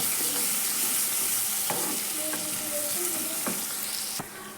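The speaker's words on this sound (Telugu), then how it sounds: "ఒక ప్యాన్లో ఆయిల్ వేసి వేడి చేసుకొని అందులో మనం కట్ చేసి పెట్టుకున్న ఆనియన్స్ చిల్లీస్ అన్నీ వేసి ఫ్రై చేసుకోవాలి" Chopped onions and chillies frying in hot oil in a pan, a dense continuous sizzle with a few spatula scrapes, close and alone until it drops slightly at the end.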